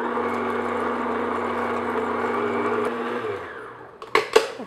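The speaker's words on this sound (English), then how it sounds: "So I'm just going to beat my whites on low speed just until they get nice and foamy." An electric mixer with a whisk attachment beats egg whites on low speed, a steady close motor whir with a rattling drone that fades before a few loud knocks and clatters at the end.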